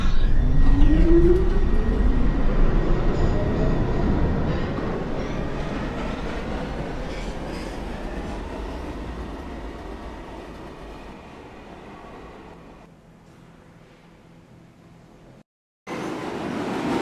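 An R62/R262 New York subway train on the uptown local 1 line rumbles and clatters loudly up close, with wheel squeal early on, then fades steadily before a brief cutoff and a return of train noise.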